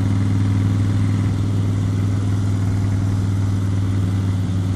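A Harley-Davidson motorcycle engine runs with a deep, steady low rumble and throbbing pulse, heard up close without a voice.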